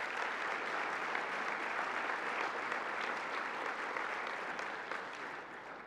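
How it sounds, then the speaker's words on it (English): Sustained applause from a crowd at an awards ceremony, dense steady clapping that stays loud throughout with no pauses. "Please, nice round of applause for all those."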